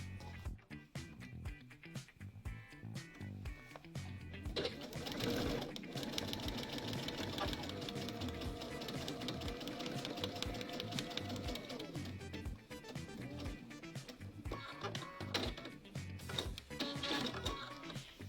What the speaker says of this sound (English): now I'm going to sew on line number 2.